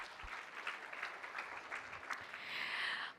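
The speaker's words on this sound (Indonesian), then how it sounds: "Boleh tepuk tangan teman-teman semua?" An audience at an Atomy product presentation claps faintly, with soft, uneven clapping that swells slightly toward the end.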